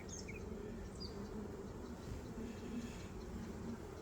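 A swarmed honeybee colony buzzes in an apiary hive, a faint, continuous low drone of many bees with occasional brief higher passes from individual bees flying close by.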